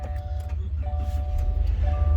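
A 2022 Subaru Ascent Premier starting at the push of a button, its engine settling into a steady low idle close by with a few faint electronic tones over the top.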